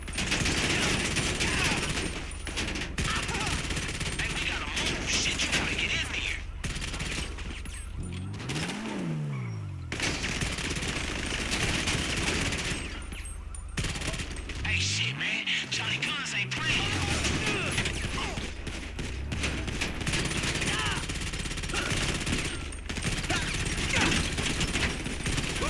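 Gunfire in GTA 5 Online, rapid automatic bursts crackling almost continuously through a chaotic fight, with vehicle engines sweeping past and people talking over it.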